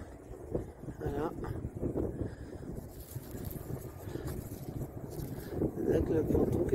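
Wind gusting across a harbour with small sailboats moored at a crooked pontoon, a steady rushing roar and microphone buffeting that swells louder near the end, with voices talking faintly underneath.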